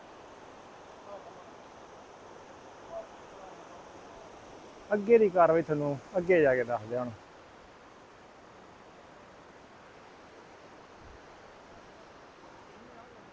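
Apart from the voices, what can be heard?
mountain river flowing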